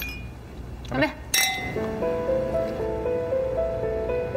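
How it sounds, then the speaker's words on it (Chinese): Glasses clink together in a toast at a quiet restaurant dinner: a couple of bright, close chimes that ring briefly, then soft sustained musical tones carry on behind. "来， 干杯。"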